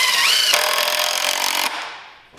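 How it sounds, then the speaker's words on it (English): A power drill drives a screw during furniture or project assembly, giving a loud, close whirring burst of about a second that rises at the start and then cuts off. "put one screw in the top right there"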